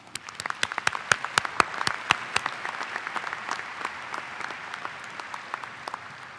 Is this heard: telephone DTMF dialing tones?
no